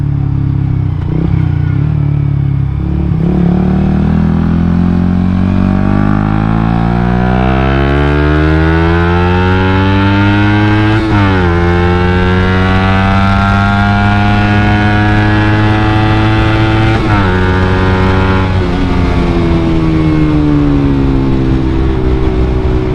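A loud Suzuki GSX-R150 motorcycle engine revs up and down repeatedly, its pitch rising and falling in long sweeps, close by and continuous.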